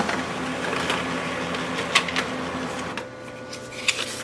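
A Brother DCP-L2640dw laser printer runs a copy, whirring steadily with a rolling mechanical drone, soft clicks and a few sharp clunks as paper feeds through, then settles into a quieter hum near the end; close and alone.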